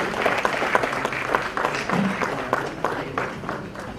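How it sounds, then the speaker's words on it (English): Audience applause at a seminar for International Management Accounting Day as the governor arrives, a steady spread of clapping from a moderate crowd lasting throughout, with faint voices mixed in. "applause for our Governor Sir, Shri Ramesh Bhai Sir"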